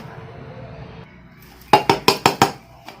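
A spoon stirring a homemade abir colour mixture in a bowl, knocking out about five sharp rhythmic clinks in quick succession, then one softer tap, close and loud after a quiet start.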